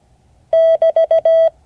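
Morse code signal for break sent as a clean electronic tone: one long beep, three quick short beeps, then one long beep, crisp and isolated against a quiet background.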